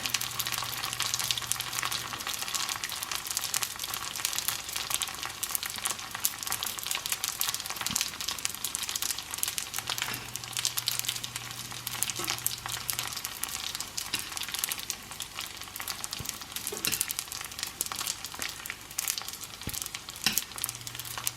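Egg rolls deep-frying in hot oil, a steady close crackling sizzle that runs throughout with small pops and occasional faint clinks, no voices.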